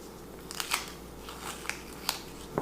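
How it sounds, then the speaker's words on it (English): Tape and vinyl being peeled off glass give faint, scattered crackles and sharp little ticks over a quiet background. "we're going to go ahead and peel our tape back. And then we're going to remove the vinyl."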